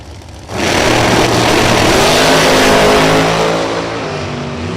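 Top dragster drag racing cars, a supercharged blower car and a big block Chrysler, launch at a dragway with a sudden loud, sustained engine roar that rises in pitch and holds near, then eases slightly at the end.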